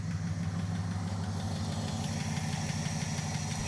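A Dodge Charger crew cab engine idles steadily with a faint ticking running through the low, even rumble, close by and continuous, with no talk.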